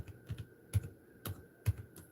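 Someone types on a computer keyboard, a handful of distinct key taps spaced unevenly, some doubled, moderately quiet and close, with no talking.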